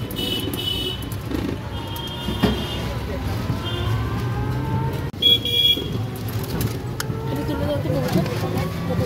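Cars and buses speed past close by on a road during a city tour of Purulia, with engine whooshes and occasional horn toots under ongoing talk.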